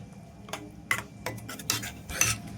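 A spoon scrapes and clanks against a metal pot while ground masala is mixed with hot water for dhaba-style lasuni methi; several short, sharp strokes in an uneven rhythm, close up, with no talking.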